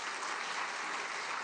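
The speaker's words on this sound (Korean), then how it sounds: "박수 한번 치겠습니다." Congregation in a church applauding after a Hallelujah choir's hymn, a steady wash of many hands clapping at fairly low level, dense and even throughout with no talk over it.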